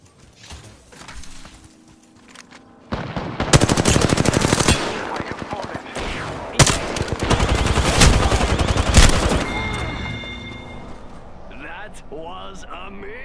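Loud, rapid bursts of automatic gunfire from an Apex Legends ranked match, close and sustained for several seconds before easing off, with voices talking over the fight.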